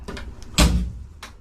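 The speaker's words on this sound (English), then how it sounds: "So I've just put the door on and I've put the catch in it, and that's quite good for a first try on. The door shuts nice." Classic Mini Cooper door under restoration shutting with one solid, close thunk, preceded and followed by faint handling clicks.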